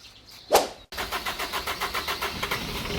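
Mitsubishi 4x4 pickup engine cranking and catching after a brief hiss, then settling into a steady, rough rhythmic idle close by, with no talking.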